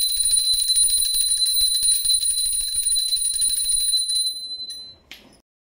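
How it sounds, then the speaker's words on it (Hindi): A hand bell rung during a Diwali puja at home, ringing steadily and brightly for several seconds with a sustained metallic shimmer, then stopping with a final faint clink. "बेटी ने भी घंटी बजा दिया है, मैं भी दिखा घंटी बजा ली हूँ।"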